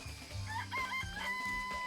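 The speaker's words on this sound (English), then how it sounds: "I remember there's some chickens in the chicken coop." Chickens in the Danganronpa chicken coop cluck and crow in a short, close burst of overlapping fowl calls with no talking.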